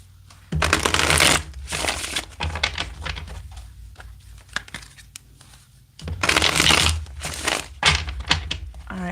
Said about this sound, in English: Let me get 3 more shuffles here.